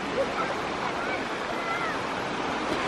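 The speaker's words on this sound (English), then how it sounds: "The sea's going out now." Sea waves washing onto a beach in Cornwall, a steady broadband surf wash with some wind, continuous and moderately loud, with faint voices in the background.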